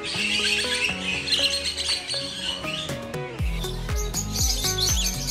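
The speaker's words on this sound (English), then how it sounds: "That's a lot of birds in my hand." Many birds at a bird sanctuary in the Dominican Republic chirp and squawk all at once, a dense overlapping chorus of tweets and calls close by that keeps going without a break, with no talking.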